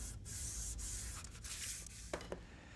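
Wood is lightly sanded with the grain on a classic Bronco, making soft, faint rubbing strokes with a breathy hiss and a couple of small taps near the end.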